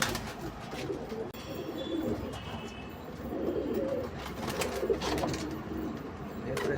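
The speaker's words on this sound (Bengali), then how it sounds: "খুব দুর্দান্ত পায়রা" Andhra and Madraz pigeons kept in a loft coo in repeated low, throaty phrases, close and steady, with a few sharp clicks and rustles scattered through.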